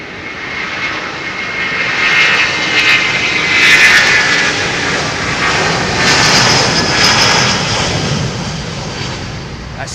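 An airliner roaring along runway 27R at London Heathrow Airport, a loud sustained jet engine rumble that swells and holds over about ten seconds.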